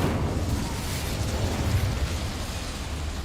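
Incendio fire spell cast in the Hogwarts Legacy video game, a dense roaring burst of flame that holds loud and steady throughout.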